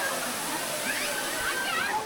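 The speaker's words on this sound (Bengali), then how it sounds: "ঝর্ণা থেকে অবিরাম ধারায় পড়া জলের একটানা শব্দ" Continuous rush of water pouring down Moti Jharna, a hillside waterfall in forest country near Sahibganj, heard close as a steady broadband roar with no break for the whole stretch.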